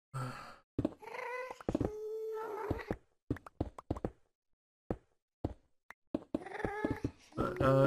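A cat in the Minecraft video game meows a few times, with tonal harmonic calls at the start and end, broken up by short clicking taps in between and no talking over them.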